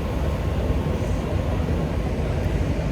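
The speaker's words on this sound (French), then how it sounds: "je viens de voir un hélicoptère qui passe" Steady broadband rotor and engine rumble of a helicopter passing overhead in autumn Toronto, a continuous loud drone dominated by low frequencies with no voices.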